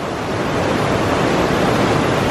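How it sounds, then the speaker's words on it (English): Steady, full-bodied rush of falling water, constant and broadband with no breaks, like a jungle waterfall, Tanawan Falls in Dingalan, Luzon, Philippines, heard from fairly close. "There's the waterfall."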